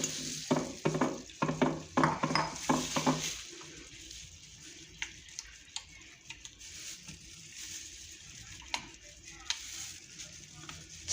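A spoon stirring boiled sago pearls into milk in a bowl for a sweet dessert, several quick wet sloshing strokes early on, then faint occasional clinks and quiet kitchen background.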